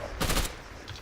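A brief, loud burst of machine gun fire in a video game rattles once near the start, followed by faint background noise and a smaller distant pop.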